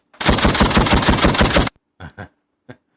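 A rapid burst of machine-gun fire from a soundboard sound effect, followed by a few scattered single shots, loud and close.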